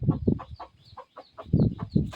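A Thai game hen clucks close by, a run of short, uneven throaty clucks and soft calls in a quiet setting.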